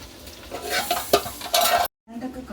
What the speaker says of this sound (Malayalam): അപ്പോൾ അതേ മീനച്ചാറ് വേണ്ടിയുള്ള മീൻ ഫ്രൈ ചെയ്തുകൊണ്ടിരിക്കുകയാണ്